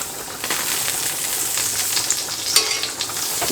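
A tablespoon of butter sizzling in a frying pan for an Italian sausage pasta dish, a close, steady crackling hiss with scattered pops and light stirring clicks, no speech.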